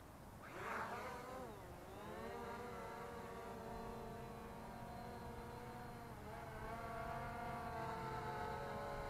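Drone motors arm and spin up for takeoff at a fun-fly, a steady buzzing whine rising in pitch then holding, with a second push of throttle later, heard fairly close and alone.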